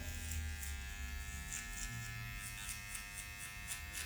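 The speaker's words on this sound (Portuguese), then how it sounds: "Com a máquina de acabamento, ó." An electric hair clipper buzzes steadily close by as it trims the short lower hair during a fade haircut, a continuous whine with slight variations in pitch and no talking.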